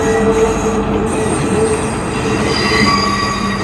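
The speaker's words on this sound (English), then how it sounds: "So that was the first train." A train on a Sri Lanka railway near the Nine Arch Bridge rumbles steadily past, close and loud, with squealing wheels and a continuous metallic roar throughout.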